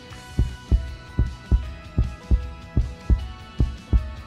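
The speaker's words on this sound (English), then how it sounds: "if you hold it up to your chest, you can actually see your heartbeat" A heartbeat during a magic trick, about ten regular, loud, close thumps evenly spaced over a few seconds above a low steady hum, with no voices.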